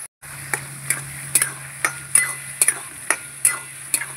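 Potatoes being stirred and browned with chilli powder and spices in a pan, a broadband frying hiss under repeated sharp scrapes and clacks of the spoon at a steady rhythm, close and fairly loud, with a low steady hum throughout.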